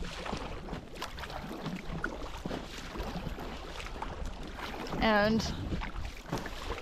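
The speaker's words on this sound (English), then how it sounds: "right now I'm paddling into the wind" A small inflatable boat is paddled into the wind on a mountain lake. Steady wind buffeting and water sounds run throughout, close to the microphone, and a short vocal sound rises briefly partway through.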